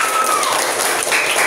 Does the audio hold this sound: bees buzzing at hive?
no